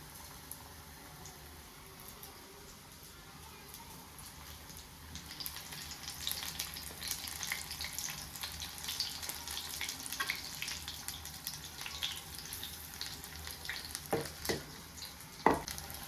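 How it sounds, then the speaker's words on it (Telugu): Onion bajji frying in hot oil, a steady soft sizzle and bubble that swells after a quiet start, with a few sharp clinks near the end, close by and without talk. "ఇలా పట్టుకొని జస్ట్ ఇలా ఇలా బొర్లిచ్చేసి నూనెలో వేసేసుకోవడం."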